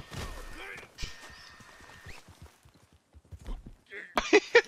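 Horse hooves clip-clopping in the Red Dead Redemption 2 Online video game, a scattered run of soft thuds that grows louder and closer near the end, with quiet talk underneath.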